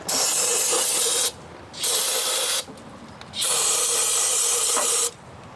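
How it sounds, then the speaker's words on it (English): Three long bursts of hissing throttle body cleaner sprayed into a Honda Civic hose close by, separated by brief pauses, each forceful and steady. "I'm going to grab a can of throttle body cleaner. I'm going to spray it inside this hose."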